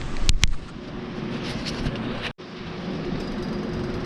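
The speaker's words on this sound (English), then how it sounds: "So yeah, I'm gonna weld." Welding on a steel slip tank: a steady crackling buzz runs nearly throughout, with two sharp pops near the start and a brief break midway before the arc resumes.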